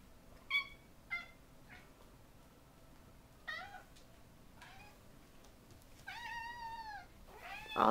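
Several cats meow in a quiet indoor room, a few short separate calls early on and then a longer, louder drawn-out meow near the end, with a low background hum throughout.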